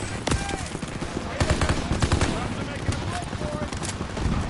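Rapid bursts of gunfire crack through a chaotic WW2 battle as suppressive fire lays down alongside a smoke screen, loud and close with dense overlapping shots and shouting voices.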